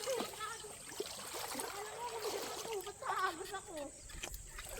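A river in Mindoro Oriental flows and splashes close by, a continuous rushing, trickling wash, while people talk over it.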